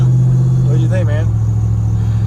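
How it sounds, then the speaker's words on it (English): Hemi-swapped truck engine idles with a steady low rumble close by, while someone talks over it briefly. "The sucker actually runs and it sounds good."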